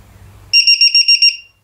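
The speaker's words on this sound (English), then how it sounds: "The buzzer will sound and the red light will flash." A LiPo battery low-voltage checker buzzer sounds a loud, shrill electronic alarm, six rapid pulsed beeps in a row, close and alone after a faint low hum.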